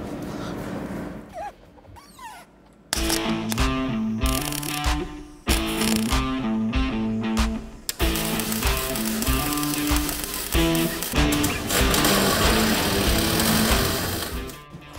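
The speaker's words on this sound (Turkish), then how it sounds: "şimdi bu aracın üzerindeki ilk kaynağımızı yapacağız" A welding machine joins the race car chassis. After a few quiet seconds, a loud, close, crackling buzz starts and keeps going, with a few short breaks as the arc stops and restarts.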